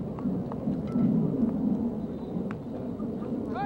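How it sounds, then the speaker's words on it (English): Rain falls steadily during an outdoor high school baseball game, a dense, even hiss of drops with faint scattered knocks and no voices. "It is raining."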